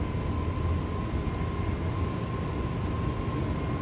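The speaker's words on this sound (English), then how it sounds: "Toga, I'm giving a maximum thrust so that my climb rate is good." Airbus A320neo engines at takeoff thrust in Microsoft Flight Simulator 2020: a loud, steady jet roar with a sustained whine on top, unchanging for the whole stretch.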